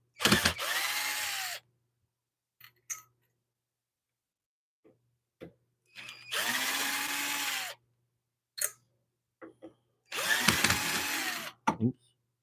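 Cordless power drill driving square-drive screws into a wood bowl blank on a lathe faceplate, in three whirring bursts of a second or two each, rising and falling in pitch, separated by clicks and quiet pauses.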